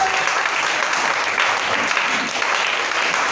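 Sustained applause from a church congregation during a worship service, dense steady clapping filling the room for a few seconds with no voices over it.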